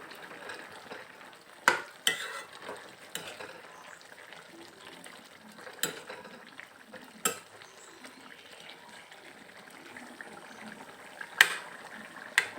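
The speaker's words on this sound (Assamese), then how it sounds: "ঢাকনখন উদঙাই অকণমান লৰাই দিম।" Chicken curry with banana flower being stirred in a pot, with soft scraping and bubbling under a low background and a few sharp knocks of the spoon against the pot.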